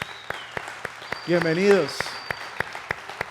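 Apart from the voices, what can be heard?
church congregation applauding to welcome a family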